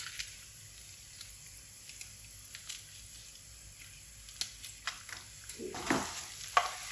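Green chilies fry in hot oil in a pan for dal tempering, a quiet steady sizzle with light stirring clicks, rising into a louder crackling splutter near the end.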